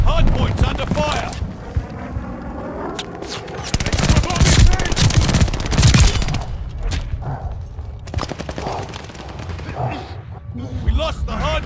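Bursts of automatic gunfire and scattered single shots crackle through a Call of Duty: Vanguard hardpoint match, loud and close with wind noise and in-game radio voices talking between volleys.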